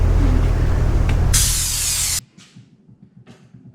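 UPol Raptor bed liner sprayed onto Jeep parts: a loud, close, steady compressed-air hiss for about two seconds that brightens into a sharper burst, then cuts off abruptly, leaving faint rustling.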